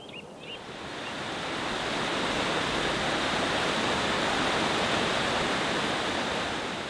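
Steady rushing water of a clear valley stream flows without pause, a full, continuous wash of sound close by, with no voices.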